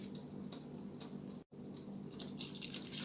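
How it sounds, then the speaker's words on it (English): Water poured into a cooking pot of breadfruit for a Jamaican-style chicken and pumpkin soup, a steady faint splashing stream that runs throughout with one brief break midway. "I have to add some more water to the pot now to cover the breadfruit."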